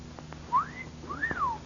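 A person whistles two bright rising-and-falling wolf-whistle-like notes, close and moderately loud, over a faint steady hum.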